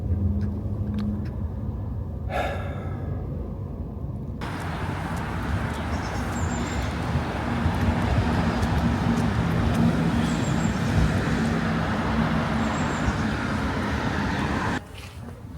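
A car drives along a road past the former Nazi rally grounds in Nuremberg, Germany, a steady close engine and tyre rumble that holds throughout, with a brief rushing swell early on and the noise dropping off at the very end.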